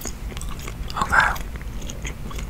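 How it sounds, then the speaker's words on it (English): Peppermint gum chewed close to the mic, a soft wet bite and crunch swelling near the middle over a low steady background hum. "I've got some peppermint cobalt gum I'll be working on today while we play."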